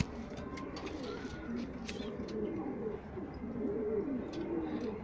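Pigeons coo softly in a loft or aviary, their low repeated calls rolling under faint chirps and light background rustle, with no close speech.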